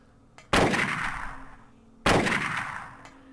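Two loud, sharp gunshots fired at a worm in the Silent Hill 1 video game, each a sudden blast with a long ringing decay, spaced about a second and a half apart with no talk.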